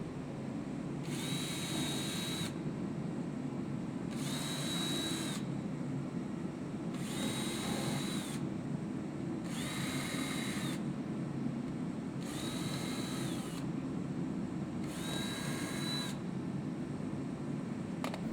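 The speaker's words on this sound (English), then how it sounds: "Pre-drill the holes for the screws into the side of the rafters approximately every 16" A power drill bores screw pilot holes into the side of wooden gazebo rafters in six or seven evenly spaced whirring bursts of about a second each, over a steady loud background hum.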